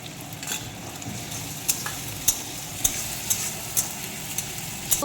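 Chopped tomato frying in a pan with ground cumin paste, a steady sizzle with spatula strokes scraping and tapping the pan at regular intervals, close and fairly loud with no talking.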